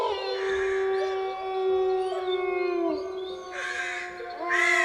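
A bird perched in a tree gives long, drawn-out, crow-like cawing cries, loud and close, that rise and waver alone with no talking.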